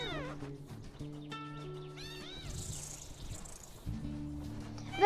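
A cat meows a few times at close range, with rising and falling calls over a low sustained tone, then a soft hiss-like stretch of noise in the middle.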